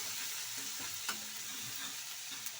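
Onions frying in a pan for a radish saaru give a steady, close sizzle with a few soft stirring scrapes and one brief clink, and no voices.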